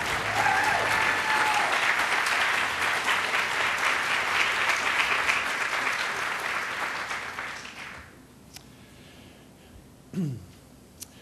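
A crowd at an inaugural dedication ceremony gives a full round of applause that carries on strongly before tapering off into quiet, with a short isolated noise near the end.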